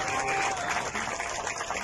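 Steady applause from an audience at a political event in Mexico where signatures are gathered for a party leadership candidacy, a continuous dense wash of clapping heard from a distance.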